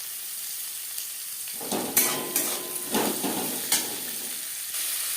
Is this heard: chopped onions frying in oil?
yes